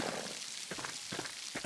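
Steady rain in the narrative adventure game Pentiment, a soft, even patter with faint scattered drops running throughout, heard alone without voices.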